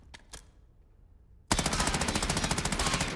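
Call of Duty automatic gunfire in Verdansk: a couple of faint shots, a short quiet gap, then a loud, rapid sustained burst of fire that runs to the end.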